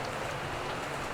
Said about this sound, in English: It's raining significantly more.